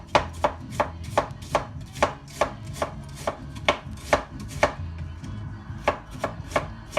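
A knife chops red cabbage on a cutting board in a steady, brisk rhythm of crisp, close thuds, about two or three cuts per second, with no voices.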